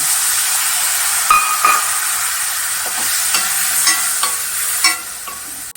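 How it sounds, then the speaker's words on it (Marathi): Chopped tomatoes with chili powder fry in oil in a pan for methi dal, giving a loud, continuous sizzle broken by several scraping stirs of a spoon, with no talk. "टोमॅटो चांगले परतून घ्यायचे।"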